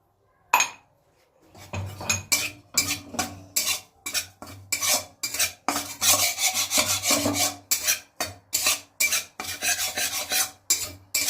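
Fresh ginger is rubbed across a grater for pea kachori filling, a steady run of close, rasping back-and-forth strokes in an even rhythm with no speech.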